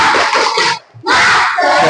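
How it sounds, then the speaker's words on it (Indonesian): A school class shouts a spirit chant in unison, two loud bursts of many children's voices split by a short pause, with claps likely mixed in, close and energetic. "Tepuk semangat."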